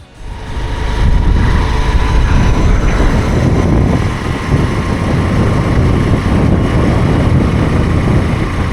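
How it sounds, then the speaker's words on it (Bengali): A motorbike is ridden along a road, a loud, continuous engine drone mixed with wind and road rumble that swells in the first second and then holds steady. "এই হচ্ছে আমার বাইক"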